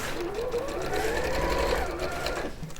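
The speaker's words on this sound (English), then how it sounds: "Do you go right to the very end when you're sewing that seam?" A domestic sewing machine stitches a seam in one continuous whirring run of fast needle strokes, close and steady for nearly three seconds, with a brief slowdown at the end.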